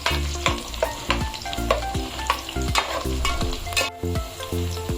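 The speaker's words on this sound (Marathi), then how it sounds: "आता आपल्याला याच्यामध्ये घालायचं आहे मटण" Mutton pieces fry in a hot pan, hissing and sizzling loudly while a spoon stirs and scrapes in quick, repeated strokes throughout.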